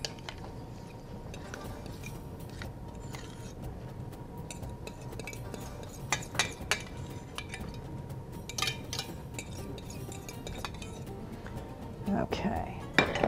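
Couscous with raisins and almonds being stirred, with soft scraping and occasional light clinks of a utensil against a pot, fairly quiet and continuous, with a few sharper knocks near the end.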